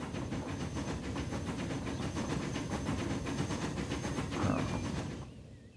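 Locomotive drive wheels slip and spin on slick rails in the Transport Fever video game, set in America: a fast, rhythmic hissing chuff repeating evenly for several seconds before fading out at the end.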